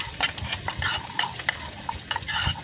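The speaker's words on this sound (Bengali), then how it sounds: "এই যে সব একসাথে মিক্স করে দিচ্ছে" Spices and fish are stirred together in a cooking pot, with steady scraping and sizzling throughout and occasional louder clinks of the utensil against the pot.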